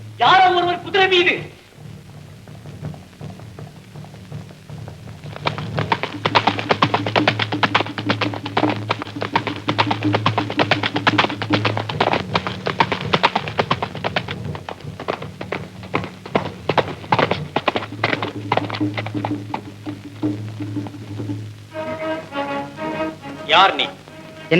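Hooves of a single horse with rider approach in a rhythmic clip-clop, running steadily under loud dramatic music with raised voices at the start and end, in an old Tamil period film scene.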